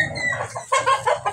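A flock of native, island-born chickens and bantams clucks at close range during outdoor foraging, in several uneven bursts of busy, overlapping calls with no talking.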